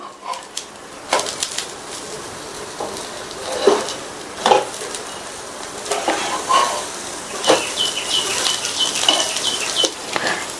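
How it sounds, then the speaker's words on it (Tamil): An uttapam cooks on a hot pan and is turned over with a spatula: light sizzling behind a series of sharp scraping and clinking strokes of metal against the pan. "ஒரு சைடு ஊத்தப்பம் வெந்ததுக்கு அப்புறமா திருப்பி போட்டுக்கலாம்."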